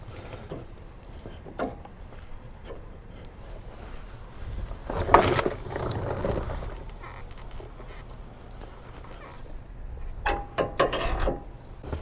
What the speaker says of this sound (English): We can pull our sway bar down now.